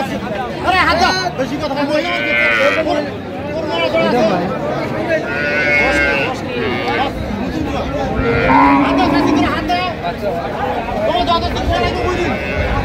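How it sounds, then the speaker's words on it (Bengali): Dairy cows with calves lowing and mooing at the Ambari cattle market, with many voices chattering nearby over the animal calls. "গাভী বাছুর আমরা দেখছিলাম"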